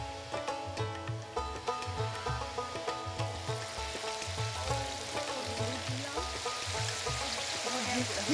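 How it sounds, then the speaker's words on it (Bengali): Onion and salt frying in hot oil, a steady bright sizzle with a low rhythmic clatter of stirring running underneath throughout. "তেলের এই পেঁয়াজটার মধ্যে এই লবণ দিলে পেঁয়াজটা তাড়াতাড়ি ভাজা হয়"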